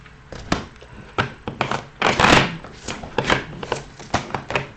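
Tarot cards being drawn and laid down during a reading, a series of crisp taps and slaps at an irregular pace, with one louder shuffling flurry midway, close and clear with no talking.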